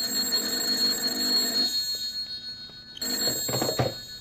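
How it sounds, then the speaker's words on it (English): A telephone rings in a radio drama, two bursts of shrill electric bell tone separated by a short pause, loud and close with no voices. "Then my phone shrilled."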